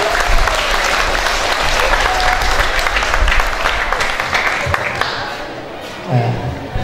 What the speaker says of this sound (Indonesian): Beri tepuk tangan meriah untuk Bang Azmi.